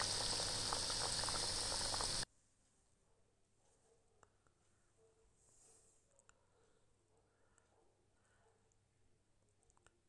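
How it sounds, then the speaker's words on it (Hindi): Maize flour mathri deep fry in oil, opening with a loud, harsh burst of noise that quickly drops to faint, steady bubbling with small scattered pops. "इनको डीप फ्राई कर रहा हूँ"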